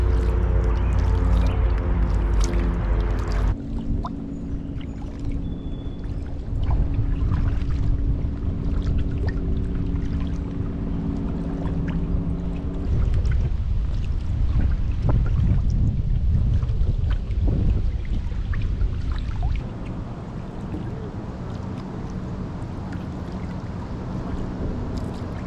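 A canoe paddles along the Connecticut River near Northampton, water splashing and dripping near the boat under steady wind rumble, with no talk.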